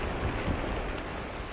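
Ocean waves rock a lobster fishing boat at sea, a dense rumbling wash of water and wind buffeting the microphone, loud and continuous with no voices.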